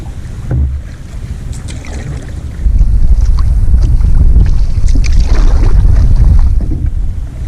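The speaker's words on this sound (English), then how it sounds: "So the wind is coming all the way across Cache Bay and hitting this opening." Strong wind blows across Cache Bay on a canoe trip through lakes in the Boundary Waters wilderness, a loud, steady roar of microphone buffeting with rushing water beneath, growing heavier midway and continuing without speech.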